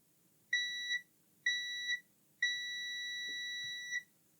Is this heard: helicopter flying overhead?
no